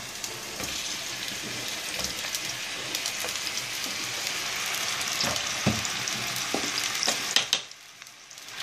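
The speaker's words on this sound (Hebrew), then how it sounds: "שומעים את הרעש? נוסיף את התפוחי האדמה." Steady crackling sizzle of potatoes frying in hot oil in a pot, with occasional sharper pops and stirring clatter, close and continuous until it quiets near the end.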